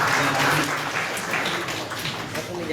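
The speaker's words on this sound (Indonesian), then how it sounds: "Beri tepuk tangan dong ya." A gathered crowd at an Islamic boarding school event claps together, a dense, loud round of applause that stays steady throughout and then eases slightly.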